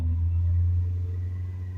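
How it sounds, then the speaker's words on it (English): A 2020 Ford Transit Connect 1.5 TDCi diesel engine after DPF cleaning, revved while stationary: a loud, steady low rumble that lifts slightly early, then holds with no speech over it. "Let's rev it up."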